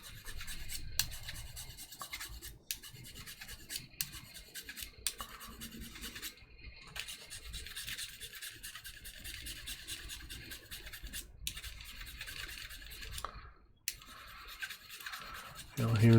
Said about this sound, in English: I'll start doing some filing here